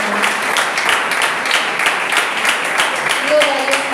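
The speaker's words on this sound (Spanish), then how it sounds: "Aplaude al Eterno." Church congregation applauding during a Spanish-language service, a steady dense wash of clapping with a few voices calling out over it.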